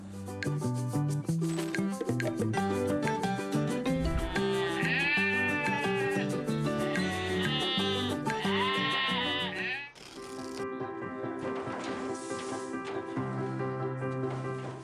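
Dairy goats on a goat farm bleat repeatedly and loudly amid dense overlapping farm noise, with a shift in the background partway through and no clear speech.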